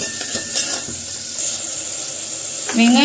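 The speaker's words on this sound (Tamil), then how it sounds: "நான் வந்து வதக்கிட்டு இருக்கேன் வெங்காயம்" Onions sauté in a pressure cooker, giving a steady soft sizzle and hiss with occasional stirring scrapes, close by. A brief voice or tone rises near the end.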